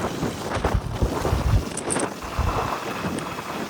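A Suzuki Burgman scooter rolls downhill at speed, with a steady rushing roar of wind buffeting the microphone and low engine rumble throughout.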